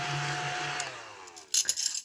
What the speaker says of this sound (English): So let me just hoover this up.